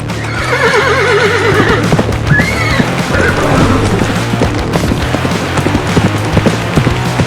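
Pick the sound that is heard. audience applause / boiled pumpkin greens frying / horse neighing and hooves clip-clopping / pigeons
horse neighing and hooves clip-clopping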